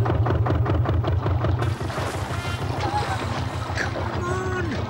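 A boat engine at full throttle, a loud steady low drone with regular pulsing that holds throughout, with voices and splashy noise mixed over it.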